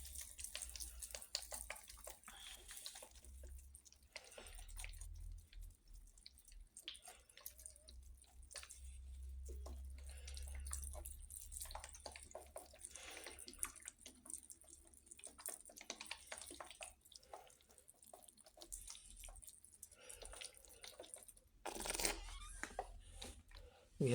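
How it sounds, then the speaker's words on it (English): Water sprays faintly onto worm bin bedding made from kitchen food waste, soft hissing spurts and light drips at close range in a quiet room. "we will spray water with it"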